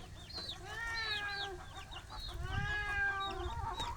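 Lavender Sussex chickens cluck and call close by on a farm, with a run of rising and falling tonal notes that pauses briefly and then resumes.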